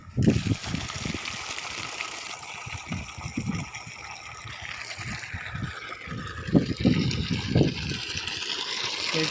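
Water gushes from a 3 HP solar-powered submersible pump set in a deep open well in Dindigul, a steady rushing flow with bursts of splashing throughout.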